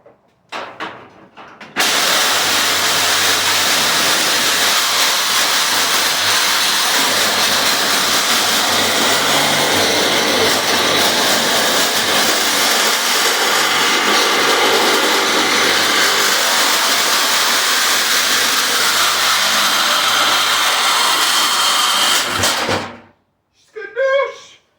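A saw fitted with a metal-cutting blade rips through aluminum, a loud, continuous harsh whine and grind lasting about twenty seconds before winding down and stopping.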